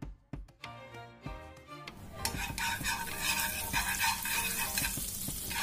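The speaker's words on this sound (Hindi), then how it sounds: "बटर हमारी मेल्ट हो गई है" Salted butter melting and being stirred in a pan while making chocolate sauce, with sizzling and frying crackle building after a few taps, then a steady loud sizzle with light stirring scrapes.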